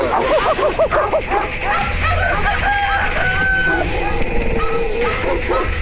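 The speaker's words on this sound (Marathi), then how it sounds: "कोंबडा हरवला म्हणजे आता थोड्याच वेळात सूर्योदय होईल" A rooster crows loudly amid a noisy farmyard, with dogs barking and other birds calling in the background.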